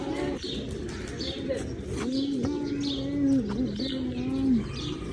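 Pigeons at a mini zoo coo in low, wavering calls while pecking at scattered grain, with faint chirps from other birds and steady outdoor background noise.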